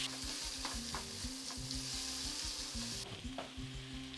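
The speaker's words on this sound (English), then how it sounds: "Saute these onions until they slightly brown." Diced onions sauté in a pan with a steady close sizzle, while a utensil stirs them in soft repeated scrapes and no one speaks.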